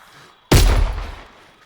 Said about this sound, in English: I'm cheating a little bit by using a swivel barrel gun.